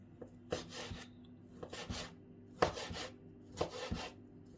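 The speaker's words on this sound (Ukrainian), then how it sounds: "Ріжемо м'ясо соломкою" Knife slicing meat into thin strips on a board, with sharp cuts and scraping strokes in an uneven rhythm, close and moderately loud, no voices.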